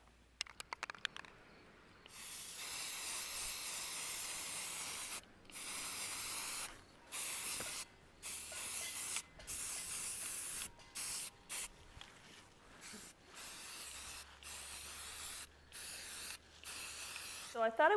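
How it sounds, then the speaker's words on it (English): A spray paint can hisses white paint onto thrifted home decor in a string of short, close bursts separated by brief pauses, with a faint rattle at the start. "I'm going to go ahead and spray them all white just to get them covered up"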